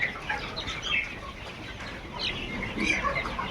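Layer chicken pullets inside a poultry farm in the afternoon, a soft chorus of clucks and chirps from many birds at once, fairly faint and steady, with no talking.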